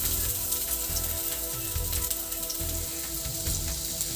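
Finely chopped garlic and a small piece of ginger sizzling steadily in hot oil while cooking bread chilli, a continuous close crackling fry with no voices.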